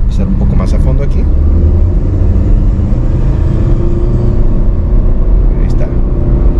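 A 2024 Chevrolet Aveo accelerating hard, a strained engine drone and road rumble heard from inside the cabin, steady and loud, with a person talking over it.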